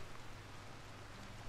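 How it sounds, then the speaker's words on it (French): Steady rain in the RimWorld video game, a soft, even hiss of falling drops heard quietly on its own. "Il pleut dehors."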